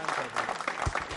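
Studio audience applause on an Indian quiz show, a brief burst of many hands clapping at close range, with a voice speaking over it.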